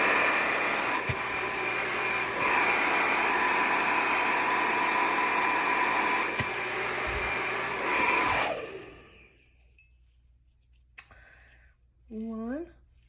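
A handheld hair dryer on medium heat blowing while drying hair, a loud steady whoosh for about eight seconds that cuts off, followed by quiet handling and a short spoken voice.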